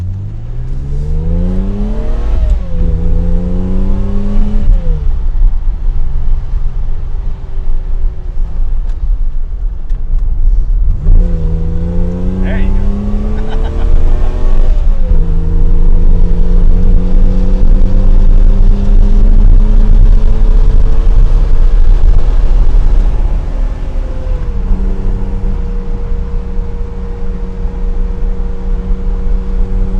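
A Datsun 280Z engine revs up loudly through several gears on a back road, the pitch climbing and dropping with each shift, heard from inside the moving car with a brief spoken remark.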